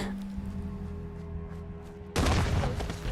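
A shotgun fires in Fallout 4, one sudden loud booming blast that bursts in over low game ambience and rings on briefly afterward.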